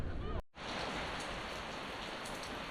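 Steady, dense rain falls on wet cobblestone streets in Essaouira, Morocco, a loud close hiss with pattering drops that cuts out briefly near the start and then continues evenly.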